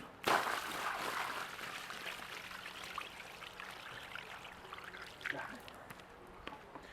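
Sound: bucket of water poured onto paving stones

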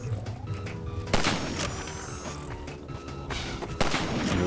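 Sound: sniper gunfire in the video game Half-Life 2

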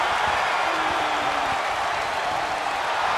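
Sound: crowd cheering in wrestling video game

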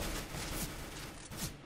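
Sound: gunfire in the video game CS:GO

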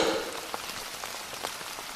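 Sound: evening rain seen from a house veranda

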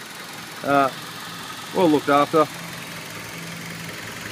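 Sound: car engine idling smoothly

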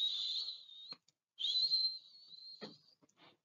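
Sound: whistling

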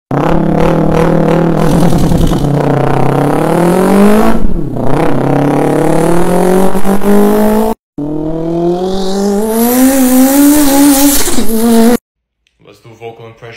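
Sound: mouth imitation of Subaru vs Mitsubishi Evo rally cars revving

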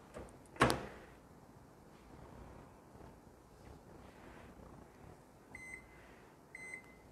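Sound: microwave oven heating for 10 seconds

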